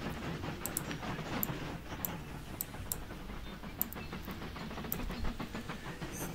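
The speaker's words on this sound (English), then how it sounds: "let's see how this train's doing" A train runs in the railway-building video game Mashinky: a steady hissing rumble with a regular pattern of faint rail clicks, alone and moderately loud throughout.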